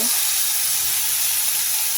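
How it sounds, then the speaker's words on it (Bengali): Onion and tomato sizzle loudly in a pan of frying rice for a Bengali home-style lunch, a steady, dense hiss that stays close and even throughout with no talk. "এবার এর মধ্যে আমি দিয়ে দিচ্ছি পেঁয়াজ টমেটো"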